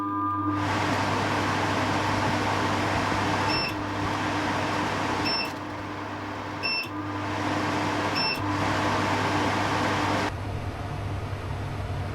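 Workshop air filter running with a steady, loud mechanical hum and broadband airflow rush, broken by several brief clicks or beeps partway through before the drone settles.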